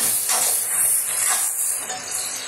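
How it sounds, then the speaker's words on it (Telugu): Three onions and three green chillies hitting a hot pan, setting off a loud, dense, steamy hiss that keeps going and softens slightly toward the end. "ఉల్లిపాయ పచ్చిమిరకాయ వేస్తున్నానండి"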